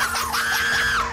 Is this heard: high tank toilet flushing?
no